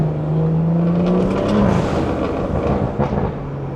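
A BMW 340i with the B58 engine revs hard on a drive, the loud tone climbing and then breaking at a shift, followed by a rougher rumbling burble; no talk is heard.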